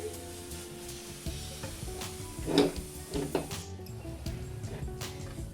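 Coconut and sesame filling for til narkel pitha frying in a pan over medium heat, a soft steady sizzle with brief louder bursts of stirring scrapes, no voices.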